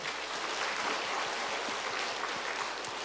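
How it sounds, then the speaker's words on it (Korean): A church congregation at a Sunday service applauds in praise, a soft, even wash of clapping heard from a distance without spoken voices. "우리의 가장 큰 복을 주신 하나님께 영광의 박수 한번 올려드릴까요?"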